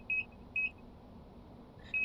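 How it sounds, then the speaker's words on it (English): An IBIS train display in a Hamburg U-Bahn U1/U3 train simulator game gives three short, clear electronic beeps: two close together at the start, then one more after a pause, over a low steady hum. "Give it a moment and it'll beep at you."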